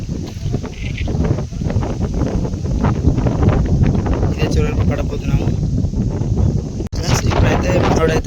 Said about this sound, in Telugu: గాలి చాలా విపరీతంగా వేస్తుంది.